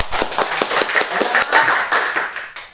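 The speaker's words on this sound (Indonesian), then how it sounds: "Oke, tepuk tangan." A small group claps for a class presentation on pulleys, brisk uneven hand claps close by for a few seconds, fading toward the end, with no talk.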